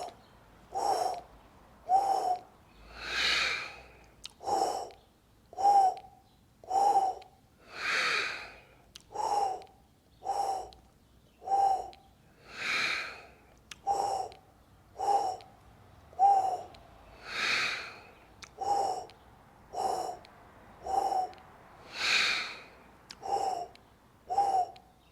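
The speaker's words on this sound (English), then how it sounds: "we're simply breathing in through the mouth in 3 1-second pulses and exhaling through the nose in the 4th 1 second" A person breathes in through the mouth in three quick one-second pulses, then exhales through the nose on the fourth second. The cycle repeats in an even rhythm for the whole stretch, close and clear, with no talking.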